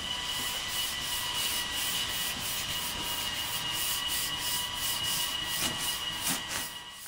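A sanding block scrubs back and forth over primer on a car panel with high-grit sandpaper, a steady close rasping rub with rhythmic strokes and no talking.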